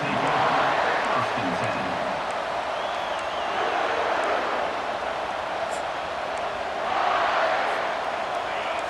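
A stadium crowd roars without pause in EA Sports College Football 25, a dense wash of cheering that swells near the start and again toward the end. A commentator's voice can be heard over it.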